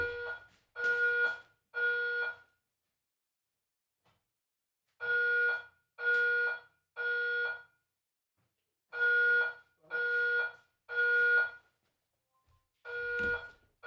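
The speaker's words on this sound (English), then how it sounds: "The fire alarm is going off." A home smoke or fire alarm in a workshop beeps in loud, evenly spaced bursts of three piercing tones, repeating in groups with short silent gaps between them.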